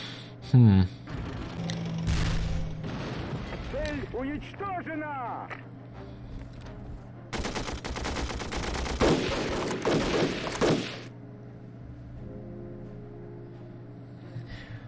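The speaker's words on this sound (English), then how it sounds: "And there goes the AT gun again." An anti-tank gun fires repeatedly in the World War II strategy game Battle Academy 2, Operation Bagration campaign. Sharp, loud reports and booms cut through other layered battle noise and game effects.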